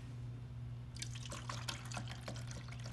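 Alkaline water at 11.5 pH is poured into a container, starting about a second in as a run of splashy drips and trickles that continue over a low steady hum.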